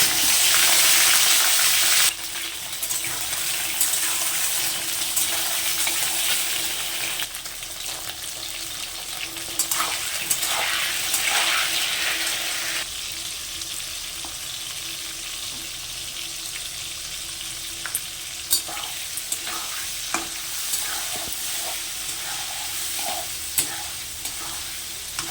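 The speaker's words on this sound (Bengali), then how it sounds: "আগে আমি পটলটাকে ভেজে নিচ্ছি।" Pointed gourd (potol) sizzles steadily in hot oil, a dense, continuous crackling hiss that starts loud and settles into an even fry with occasional small pops over about 25 seconds. No voices are heard.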